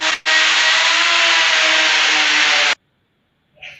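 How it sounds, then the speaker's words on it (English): A power drill bores into a wall section marking off a studio area, one loud steady whine running about two and a half seconds after a short false start, then stopping abruptly. "this was when the guy was drilling the section for the demarcation of the Studio"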